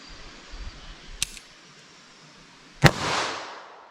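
A .38 Special revolver fired into ballistic gel, Hornady Critical Defense load: a faint sharp crack, then one loud close gunshot with a decaying echo tail, against a quiet background.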